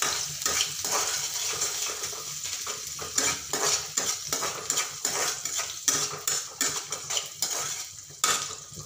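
Chopped onions and green chili fry gently in a pan for kanda poha, with a soft steady sizzle under repeated clinks and scrapes of a spoon stirring against the metal, close and fairly quiet, no voices.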